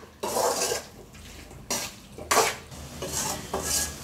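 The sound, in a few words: onion and salt sautéing in oil, stirred in pan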